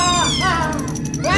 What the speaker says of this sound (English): The cat launched herself, not at Malcolm, but at the luckless custodian